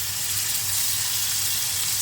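Chicken going into a pan of browned fried onions and whole spices, setting off a loud, steady, close sizzle of hot oil that hisses continuously without pause.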